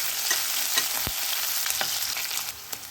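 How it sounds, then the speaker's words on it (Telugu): Onions frying with salt over a low flame, stirred steadily, giving a continuous soft sizzle broken by scraping strokes of the spatula, with no voices. "ఆనియన్ త్వరగా బ్రౌనిష్గా అవ్వడానికి జస్ట్ సాల్ట్ యాడ్ చేసి కలయబెట్టుకుంటూ ఫ్రై చేయండి."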